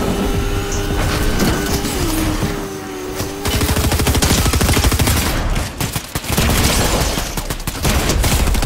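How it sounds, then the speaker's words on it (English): Loud, continuous gunfire in a Fortnite match, with rapid bursts of automatic shots rattling close by that drop out briefly before resuming, with no talking. "Ah, somebody's shooting me."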